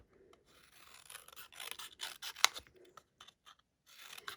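Scissors snipping adhesive foam strips for a zebra-themed card, a close run of soft crunchy cuts and rubbing handling noises, quiet and irregular, with no talking.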